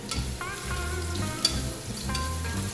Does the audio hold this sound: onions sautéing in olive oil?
yes